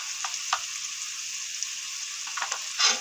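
Ground cumin paste frying in hot oil in a pan, a steady bright sizzle with a few brief spatters and crackles, close and without talk.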